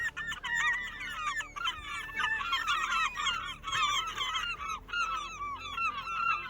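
Seagulls crowd a Lake Superior campsite as it is packed up, a dense flock giving overlapping squawks and cries throughout with no talk, fairly close and steady in loudness.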